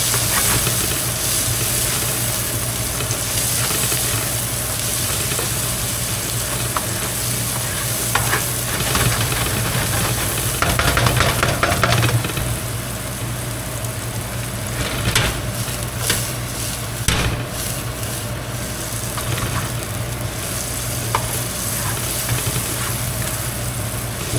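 Egg and ham frying in a hot pan, a steady loud sizzle and hiss throughout, with occasional stirring scrapes and bursts of spattering.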